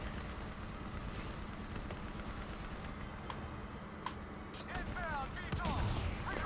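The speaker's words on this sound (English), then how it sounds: "So much explosions" Gunfire and explosions from the Black Ops 3 video game campaign, a dense continuous barrage of rapid shots with heavier blasts toward the end, fairly quiet overall.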